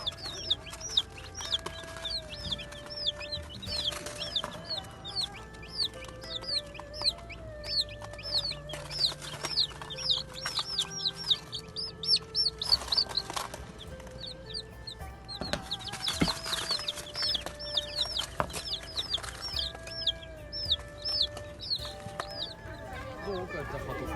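Birds in a busy aviary setting, with repeated chirps and calls close by alongside clucking fowl-like sounds, continuous throughout with someone speaking intermittently over them.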